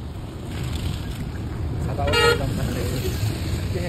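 A bus passing on a road near a dry waterfall, with a single loud horn toot about halfway through over steady engine and road noise, and faint voices in the background.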